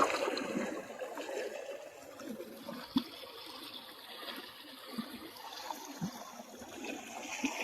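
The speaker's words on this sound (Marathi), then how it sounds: "पाणी जोरात लागतंय" Strong, continuous flow of creek water with a churning hiss and occasional sharper splashes, no talking.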